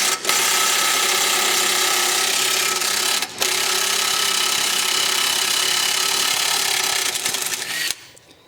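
A loud, continuous impact gun whirrs and rattles while removing a bolt from the suspension of a Nissan 350Z, with one brief pause near the middle before the tool cuts off at the end.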